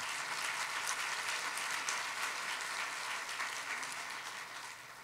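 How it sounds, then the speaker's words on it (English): An audience at a 2015 Fulton County inauguration ceremony gives a round of applause, a thick wash of many hands clapping steadily, fairly distant and tapering off slightly toward the end. "Let's give him a round of applause."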